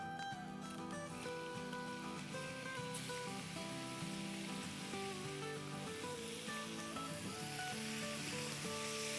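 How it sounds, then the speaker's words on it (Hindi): Small chicken pieces, about half a kilo, frying in hot oil in a home kitchen, giving a steady close sizzle throughout with a few stirring clinks and a faint tonal hum running underneath. "तेल थोड़ा सा गर्म हो गया है, तब इसमें हम डालेंगे 1 पाउंड यानी आधा किलो के आसपास चिकन है"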